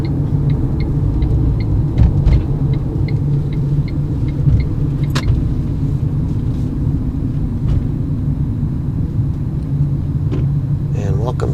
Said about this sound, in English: Welcome to I-75 on a Friday and driving in heavy traffic